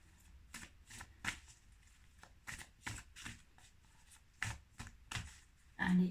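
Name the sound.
shuffling oracle cards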